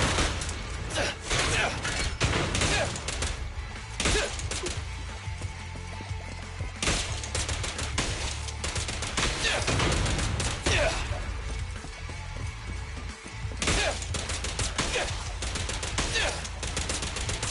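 Gunfire in Zenless Zone Zero, rapid bursts of shots and mechanical clatter repeating across the stretch, loud and dense with brief pauses, mixed with game sounds.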